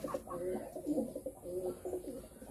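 Soft, low cooing from a male Pulsar pigeon, several throaty coos in uneven bursts close by, with faint background murmur.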